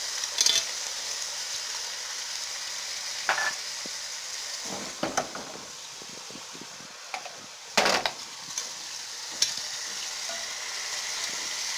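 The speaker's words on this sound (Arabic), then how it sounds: "نقليوها مليح مليح في الزيت تاعها والثوم" Chicken pieces and garlic sizzle steadily in hot oil while a utensil scrapes and knocks against the pan in irregular stirring strokes, close and continuous with no talking.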